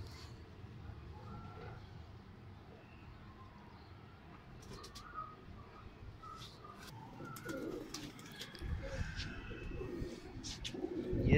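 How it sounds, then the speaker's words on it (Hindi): Pigeons cooing softly nearby on a rooftop amid a quiet outdoor background, with a few chirps and a louder rustle toward the end. "ये सारे कबूतर हैं"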